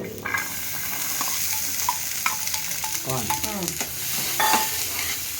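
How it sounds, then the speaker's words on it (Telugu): Corn kernels frying and being stirred in melted butter in a pan for homemade pizza, a steady close sizzle with scraping stir sounds throughout and no talking. "బటర్ వేసినాం కదా, కొంచెము ఇళ్ళనే కొంచెం కార్న్ వేయించుకుందాం"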